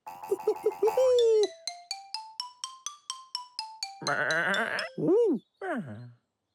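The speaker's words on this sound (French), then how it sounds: "Oh, pauvre mouton." Cartoon sheep bleat in an animated children's show: two or three wavering, pitch-bending bleats near the end, after a rising run of bright musical tones.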